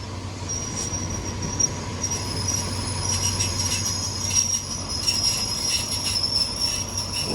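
A train with a locomotive rolls past on a Thai railway, its wheels keeping up a continuous high metallic squeal over a steady rumble, loud and unbroken for the whole stretch, with no voices.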